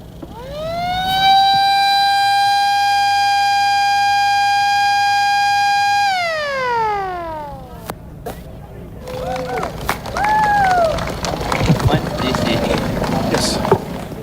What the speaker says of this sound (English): Let's hear a siren.